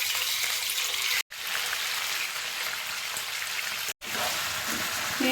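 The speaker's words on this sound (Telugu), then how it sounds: "తర్వాత శుభ్రంగా కడిగి పెట్టుకున్న చికెన్ అనేది ఆయిల్లో వేసుకోవాలి." Washed chicken pieces frying in hot oil with biryani whole spices, a loud, steady crackling sizzle broken by two brief silent gaps.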